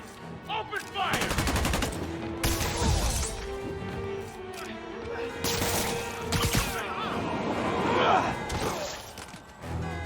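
Criminals open fire in the Spider-Man Remastered video game, with bursts of gunshots and shattering crashes spread across the clip, loud and close, mixed with other game effects and a brief voice.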